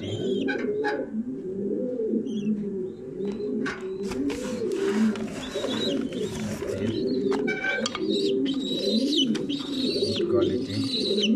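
Young racing pigeons coo close by in a loft, a continuous layered burbling with occasional sharp chirps and rustles.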